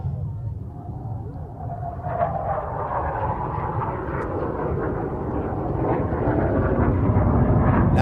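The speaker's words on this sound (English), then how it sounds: "I thought we'd take a look back to the first edition of the Scottish International Ayr Show, held back in 2015, and to a very special aircraft indeed, the Saab Draken." A Saab Draken jet roars past at the Scottish International Ayr Show, a broad, rumbling engine noise that swells steadily louder as it approaches, mixed with crowd and commentary murmur.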